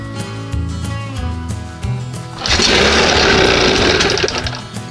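A 1971 Johnson 20 HP outboard engine cranks with the choke open, giving a loud rhythmic churning that swells into a harsher, denser roar partway through.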